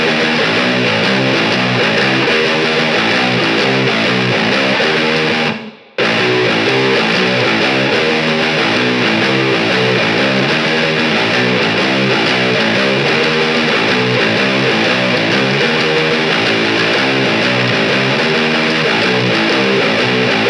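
A seven-string electric guitar tuned to drop A plays a riff, heavy and distorted, with steady chugging repetition that goes on at full volume for about twenty seconds, broken by one brief gap.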